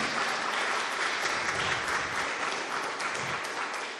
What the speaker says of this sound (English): So let's have a big round of applause for tonight's amazingly talented guest.